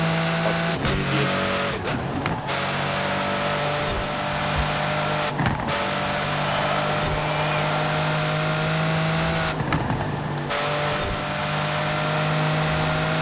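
Race cars in Forza Horizon 4 drive with a steady engine drone and tire noise, broken by a few louder swells of revving and passing cars, with no talking.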